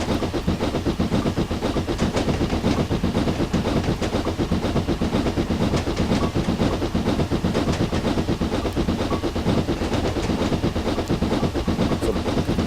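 A British train running in Train Simulator 2015 on a Somerset to Dorset route produces a steady, dense rolling rumble with continuous clickety-clack of wheels over rail joints, loud and unbroken.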